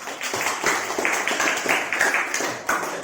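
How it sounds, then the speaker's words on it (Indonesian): Steady group applause for group 3 after a school coaching presentation, a dense patter of many hands clapping at moderate volume throughout, with faint voices mixed in. "Tepuk tangan untuk kelompok 3."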